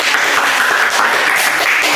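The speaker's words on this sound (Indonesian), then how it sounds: "Beri tepukan dong gitu." Members of a group counseling session clap in a room, a loud, close, steady patter of hands lasting briefly with no talk over it.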